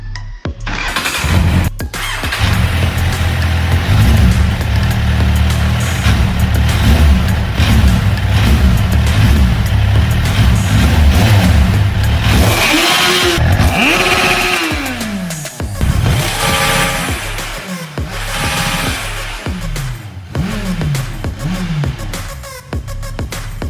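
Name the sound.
restored Kawasaki Z1000 motorcycle engine starting and revving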